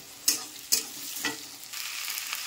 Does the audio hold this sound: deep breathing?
no